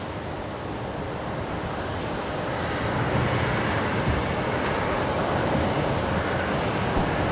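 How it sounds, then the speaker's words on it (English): A China Eastern Airbus A330 departs Brisbane Airport bound for Shanghai, its engines making a steady broadband jet roar that swells slightly partway through and holds loud and continuous to the end, with no voices present. "There goes the China Eastern A330 heading to Shanghai."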